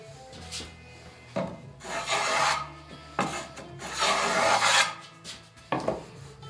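A hand tool rasps and gouges wood while a Greenland paddle is shaped, making repeated rough scraping strokes of varying length, close and fairly loud, with brief pauses between strokes.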